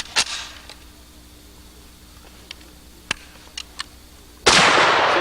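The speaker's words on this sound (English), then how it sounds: "you can shoot this gun rapidly and accurately" A 7.62x39 rifle fired rapidly: a sharp report at the start, then several quick isolated cracks spaced irregularly, and a loud burst of noise at the end.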